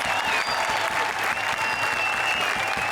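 Studio audience applauding steadily for the three judges of a Hindi comedy show, a dense even patter of clapping throughout with a faint musical tone above it.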